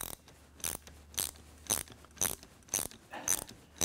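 A nut is run down the shaft of a Bilstein shock absorber with a custom rapid-install tool, producing about eight sharp, regularly spaced ratcheting clicks and grinding pulls, close and distinct against a quiet background.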